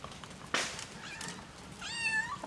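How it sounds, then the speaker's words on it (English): A cat meows at a seafood spot in Hellshire, Jamaica: a sharp broadband yowl near the start, then a longer, clearly pitched, wavering meow toward the end, fairly close and with no talking. "The cat came back."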